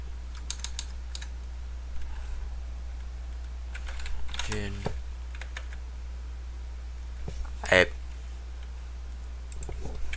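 Sparse keystrokes and clicks on a computer keyboard, a few quick taps scattered across a quiet room with a low steady hum underneath.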